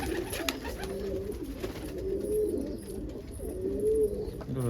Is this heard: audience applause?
no